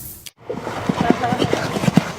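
A racehorse gallops at a jockey school, a rhythmic run of close, thudding hoofbeats after a brief gap, with a faint voice over it.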